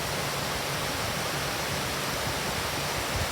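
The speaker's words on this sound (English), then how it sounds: "So they built this weir to create this mill stream to feed the water wheel." River water rushing over a weir built to feed a mill stream and water wheel, a loud, steady broadband roar with no breaks, close by and alone.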